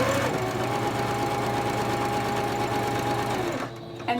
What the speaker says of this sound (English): And just start sewing these together.